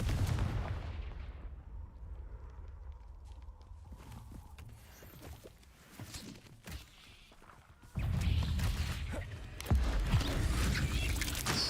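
Blasting spell explosions in the video game Hogwarts Legacy, a run of loud thumping bursts and crashes over a dense, rumbling combat backdrop with no talking.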